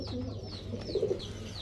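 Male pigeons coo softly nearby in a short burst of low murmuring calls over steady background hum.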